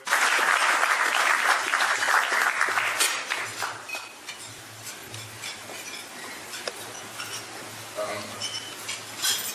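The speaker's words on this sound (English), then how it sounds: "Please, a round of applause for all our sponsors tonight" At a gala dinner, a loud burst of applause for the sponsors swells at first and then thins out. Afterwards the clink of cutlery and dishes and a low room hum carry on beneath murmuring diners.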